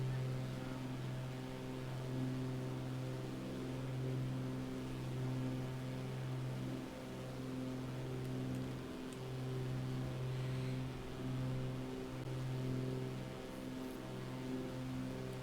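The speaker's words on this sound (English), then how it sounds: "All I hear is DC-6 noises" Steady droning piston-engine hum of a Douglas DC-6 airliner in a flight simulator, cruising through snow, with layered low harmonics holding constant throughout, loud and continuous with no talk.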